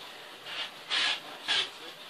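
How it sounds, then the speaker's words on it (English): Strips are cut for a puzzle with a few soft rasping strokes, three broad scraping passes rising and falling close by with no talk. "We'll cut me down some strips here. Cut us up about 3 of them."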